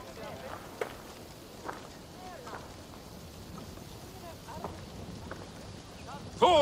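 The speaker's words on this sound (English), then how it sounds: "Thor's thunder." In Assassin's Creed Valhalla, a Norse-era setting, steady rain falls under low rolling thunder with scattered louder rumbles, and a voice briefly rises at the very end.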